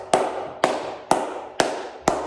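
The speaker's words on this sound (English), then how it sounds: "And we're gonna do a palma sorda, which is a low pitch" Flamenco palma sorda, low-pitched muffled hand clapping with cupped hands: five evenly spaced, soft, dull claps, close and alone.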